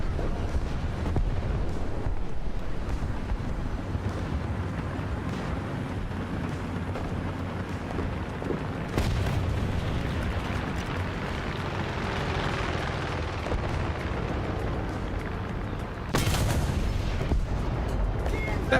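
Bomb blast in the War Thunder tank and aircraft combat game, a dense rumbling boom within a steady roar of battle noise, with a second sharp loud burst near the end.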